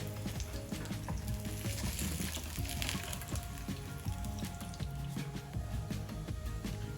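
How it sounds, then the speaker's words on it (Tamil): Fish frying in a pan for a Tamil fish fry gives a steady, fairly quiet sizzle with a scattered crackle of popping oil throughout, with no talking. "ஒவ்வொரு சைடும் 3 நிமிஷம் வச்சுருந்தா போதும், நல்லா ஃப்ரை ஆகிடும்"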